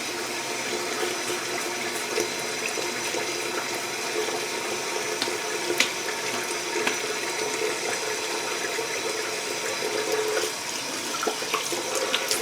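Tap water runs steadily from a faucet to rinse a razor after shaving, a continuous close hiss of flowing and splashing water with faint clinks, heard alone without talk.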